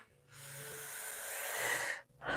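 Close, audible breathing during a relaxation exercise: one long drawn breath with a soft hiss, then a brief pause and the start of the next breath, with no talking.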